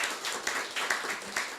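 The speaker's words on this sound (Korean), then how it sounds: "박수 쳐주세요." A small audience at a church quiz gives light, scattered applause, the claps soft and somewhat distant, in irregular bursts.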